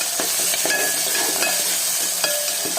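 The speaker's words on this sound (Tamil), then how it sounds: "இதெல்லாம் பொன்னிறமாக வதங்கட்டும்." Onions, green chillies, garlic and black pepper sauté in a pan for tamarind rice, giving a steady, close sizzle with a few sharp clinks and scrapes of a stirring spoon.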